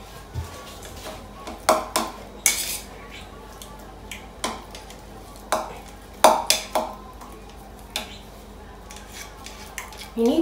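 Cream being mashed for a taco topping gives a series of sharp utensil clacks and scrapes against a container, irregular and close, with quieter squishing between the hits.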